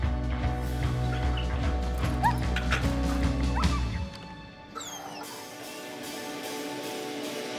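Dog barking in a hero-dogs featurette: several quick barks over dense music, then the music thins to a quieter bed.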